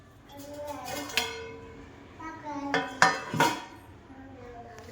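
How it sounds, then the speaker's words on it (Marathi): Metal cake tin set down with clanks into a preheated kadhai on a home kitchen stove, a few sharp metallic knocks and scrapes spaced over several seconds, close and moderately loud. "हे पण प्रीहीट झाली कढई आता ह्याच्यामध्ये ठेवून देते"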